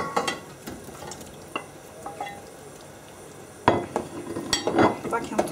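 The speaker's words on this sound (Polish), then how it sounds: "Jeszcze raz wszystko zamieszam i teraz wrzucę kiełbaskę." White sausage stirred in beer sauce in a pot, with scraping spoon clinks and soft bubbling over several seconds, a louder burst of clatter and sizzle near the end.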